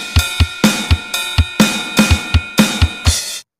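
A Real Drum app kit plays a steady groove at standard tempo from a song: regular low kick thumps and bright cymbal-and-snare hits repeating for about three seconds, then stopping abruptly.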